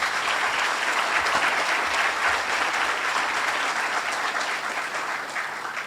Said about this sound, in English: If everyone can please give an applaud for our friend Adam, who is in the back.